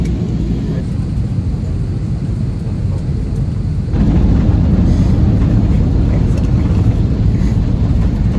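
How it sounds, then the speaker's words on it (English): A passenger airliner touching down on a flight into Bangkok, Thailand, heard from inside the cabin as a steady loud low rumble that surges louder midway, like reverse thrust and runway roar. "We're landing."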